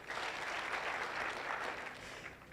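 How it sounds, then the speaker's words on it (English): An audience at an education and leadership congress claps for themselves, a dense, steady burst of applause that fades slightly toward the end. "Can you clap for yourselves?"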